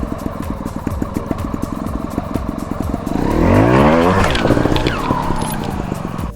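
A trial motorcycle revs in rough, rapid pulses, then its engine surges into a loud, rising roar as the rider opens the throttle hard to jump onto a rock, before settling back to an idle burble.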